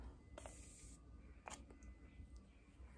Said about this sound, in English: we are just going to spray our face.